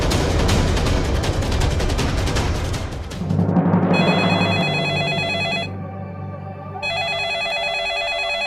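An old-style landline telephone bell rings in rapid repeated bursts, loud and close, in a Hindi crime drama; the ringing stops and is followed by electronic tonal music.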